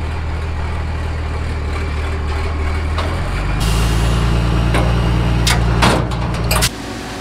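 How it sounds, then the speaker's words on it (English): A farm truck's engine rumbles steadily, then rises in pitch and loudness as the truck is moved into place beside a feed grinder, with short hissing bursts that sound like air brakes near the end. "now we're getting our truck moved in"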